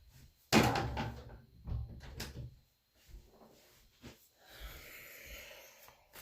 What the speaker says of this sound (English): I gotta close my door.